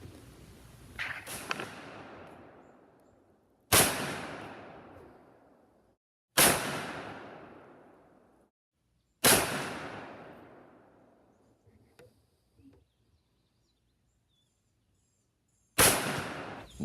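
Rifle shots of Magtech 77 grain OTM ammunition fired at a 100-yard target ring out as four or five sharp, loud cracks, each followed by a long echoing decay, spaced a few seconds apart outdoors.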